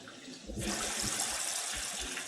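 Heavy rain pours down onto hot ground, a dense, steady hiss that swells loud after a softer opening and holds at a continuous roar, with dull low thumps underneath.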